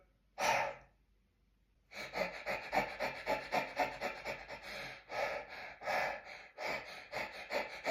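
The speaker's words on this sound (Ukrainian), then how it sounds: "Висунули язичок максимально вперед. І починаємо дихати." Rhythmic panting breaths with the tongue pushed far out, done as a vocal support exercise: one sharp intake, a short pause, then a steady run of quick, close, even puffs.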